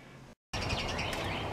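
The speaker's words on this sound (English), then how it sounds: "Oh, my birds, they never get sick of me feeding them." Pet birds chirp and tweet steadily at feeding time in a chilly garage, a busy continuous twittering after a brief silent gap, moderately close.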